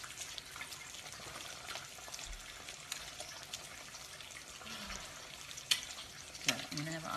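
Eggs frying in olive oil give off a soft, steady sizzle, with light scraping and handling noises and a couple of sharper clicks near the end, and no talking.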